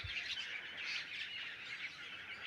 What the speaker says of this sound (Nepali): चराहरू के मिठो कराएको